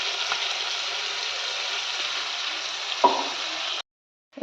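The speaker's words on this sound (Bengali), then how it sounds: "এইখানে একটা পেস্ট বানিয়ে নিলাম আমি, কাঁচা লঙ্কা, টমেটো আর আছে গোটা জিরে, এটা দিয়ে দেবো, দিয়ে একসাথে কষবো ভালো করে" A paste of green chili, tomato and whole cumin sizzles steadily in a hot pan, a loud, even hiss with one small pop before it cuts off abruptly near the end.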